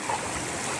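A short burst of rushing water from a flooded river, a steady broadband flow running nearby, with no voices.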